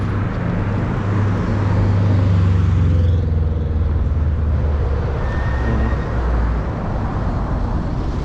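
Morning traffic on a busy road in Buru Buru, Kenya: a continuous loud roar of passing vehicles with deep engine rumble, a brief higher whine partway through, and no voices.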